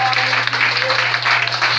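Church congregation clapping hands together during a sung worship call, a dense continuous wash of applause-like claps filling the whole stretch at steady loudness with no gaps.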